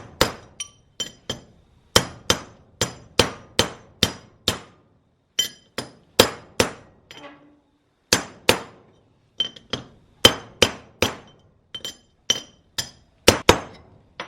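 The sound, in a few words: hammering old race to seat new wheel hub bearing race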